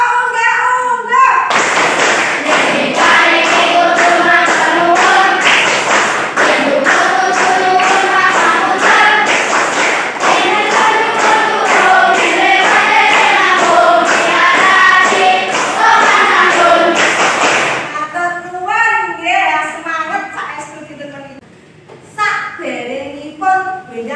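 A school class performs the 'tepuk unggah' clap pattern during a Javanese language lesson, with loud rhythmic group clapping mixed with children's chanting voices for most of the time, then trailing off into scattered speech.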